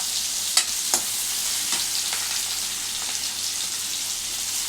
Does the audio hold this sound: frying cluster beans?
yes